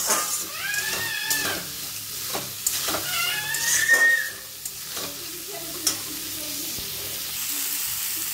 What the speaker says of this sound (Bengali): ভালো করে নাড়িয়ে নেব।